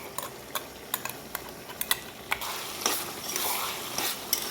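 Onion and garlic paste fries in a pan for an Assamese fish curry with taro. Scattered stirring clicks give way to a steady, brighter sizzle that swells midway and carries on to the end.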